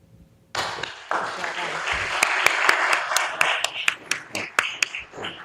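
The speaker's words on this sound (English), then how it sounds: "Give them another round of applause" Audience applause at a National Fentanyl Prevention and Awareness Day event, starting abruptly as a dense wash of clapping, then thinning into scattered louder individual claps toward the end.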